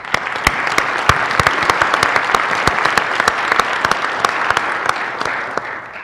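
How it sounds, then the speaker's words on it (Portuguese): Small audience applauding two candidates at a LACNIC public policy forum, close and fairly loud, with distinct individual claps clearly separated within the steady patter. "pido un aplauso para los dos."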